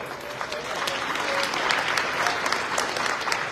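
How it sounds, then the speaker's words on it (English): A crowd at a business foundation gathering breaks into steady applause, a continuous wash of clapping with occasional sharper claps, mid-distance and even in level. "Give Resource a round of applause"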